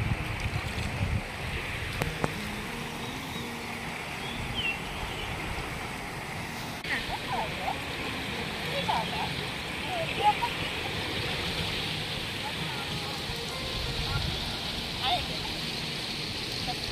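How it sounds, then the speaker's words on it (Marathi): Rain-swollen water rushes and gurgles past a rural paddy-field farm after heavy rain, a steady broadband flow at moderate distance, with a few faint knocks and voices in the background. "मस्त पाणी वाहतंय, खळखळून वाहतंय"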